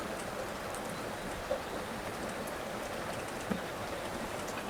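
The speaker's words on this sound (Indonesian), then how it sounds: "maafnya itu cuacana hujan, jadi suarana teh mengguruh-guruh gitulah" Steady rain falling over an open rice field, a dense even hiss of drops with a couple of faint soft knocks, constant and enveloping.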